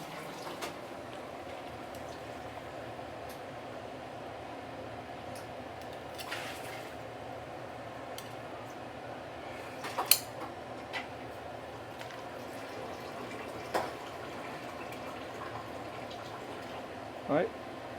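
Soy sauce chicken simmering in a pot over medium-low heat, a soft, steady bubbling with faint scattered pops and a few small clinks, quiet and close.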